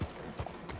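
Horse hooves clip-clop in Red Dead Redemption 2, a few uneven thuds in a short burst over faint ambient background.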